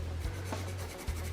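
Soft, steady burnishing of colored pencil on paper, a dry scratchy stroke with a couple of light taps, close and quiet.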